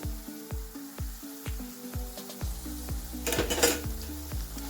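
Spoon stirring cooked onion and tomato with turmeric and coriander in a pan, a steady run of close scraping strokes over a soft sizzle with a few metallic clinks, no talking.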